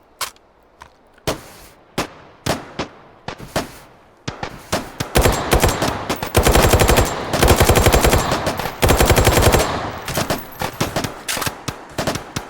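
Gunfire in the VR shooter H3VR during a nighttime breaching scenario: scattered single shots build into loud, dense sustained automatic bursts, then taper back to sporadic cracks, close and harsh with no voices.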